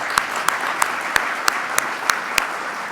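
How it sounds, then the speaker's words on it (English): Steady applause rises for the staff at a diversity awards and anniversary ceremony, a dense wash of clapping with a few sharper, evenly spaced claps standing out above it, sustained for the whole stretch. "Can I have a round of applause for them?"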